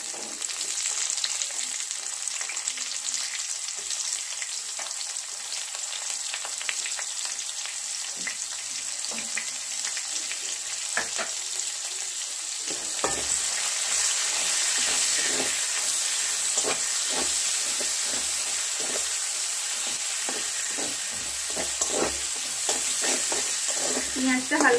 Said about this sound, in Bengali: পেঁয়াজটা হালকা ভেজে ভেজে নিতে হবে, হালকা বাদামি রঙের হবে পেঁয়াজটা, সেই অবধি ভাজতে হবে পেঁয়াজটাকে।